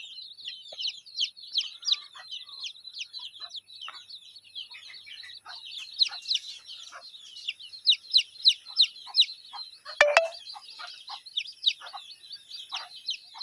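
A group of twelve young chicken chicks, black-and-white spotted and orange, peep constantly in rapid high-pitched chirps, overlapping and busy throughout, with one brief knock partway through.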